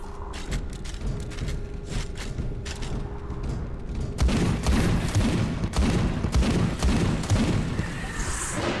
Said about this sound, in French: Ça c'est cool par contre, hein, qu'on puisse faire ricocher les munitions.